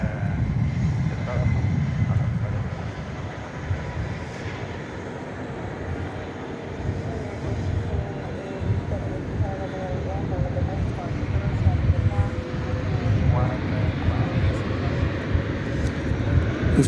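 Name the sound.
Airbus A350-1000 jet turning onto runway for takeoff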